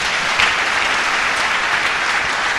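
Dense, steady applause from a church congregation, loud and continuous throughout with no break, crowd clapping filling the space evenly.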